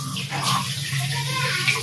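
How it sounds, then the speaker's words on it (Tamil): Water is poured into a cooking pan to mix masala during home cooking, making a close, loud gushing splash that runs continuously for a couple of seconds. "இப்போ இது கூடவே நம்ம வந்து கொஞ்சமா தண்ணி ஆட் பண்ணி மசாலா வந்து மிக்ஸ் பண்ணிக்கலாம்"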